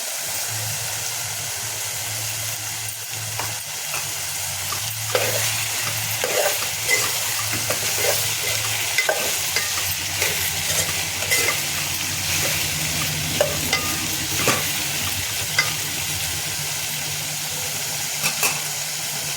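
Turmeric tipped into hot cooking oil in a pan while egg and ridge gourd are being cooked, giving a steady close frying sizzle with light stirring scrapes and occasional crackles throughout, no talking.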